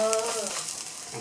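A payagua, a Paraguayan patty of beef and cassava, fries with a close, dense sizzle that stays even and constant through a brief stretch.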